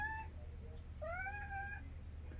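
A pet cat meows indoors, a short call followed by a longer rising, drawn-out meow, close and clear over a steady low hum with no talking.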